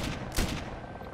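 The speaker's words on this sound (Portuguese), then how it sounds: "os tiros acertei nele" A quick burst of gunfire in the video game ARMA 2 crackles through a busy, noisy game soundscape, with one sharper shot standing out near the middle.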